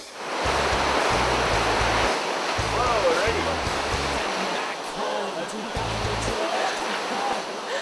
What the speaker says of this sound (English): soon hit the first set of raging rapids